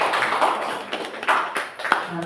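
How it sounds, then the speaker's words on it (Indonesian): An audience of teachers claps for a colleague, a short burst of scattered hand claps with uneven rhythm, moderately loud and close, tapering near the end. "Tepuk tangan buat Bu Ulfa."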